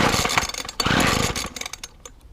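A McCulloch string trimmer with a repaired fuel hose sputters and revs in short uneven bursts, its two-stroke engine buzzing close by before dropping away at the end.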